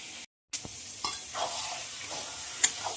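Taro leaves with green chillies and salt, cooked with hilsa fish heads, sizzle softly in a frying pan, stirred with scattered scrapes and taps over a faint steady hiss after a brief moment of silence.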